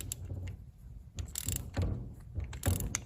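Torque wrench tightening bolts on a 1998 KX125 dirt bike, a few faint ratcheting clicks in short bursts, close up with no talk.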